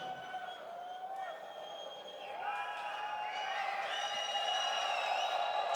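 Large esports arena crowd at IEM Katowice during a CS:GO Champions Stage quarterfinal, a steady roar of cheering and whooping that swells louder midway, with whistles and shouts rising over the dense far-off mass of voices.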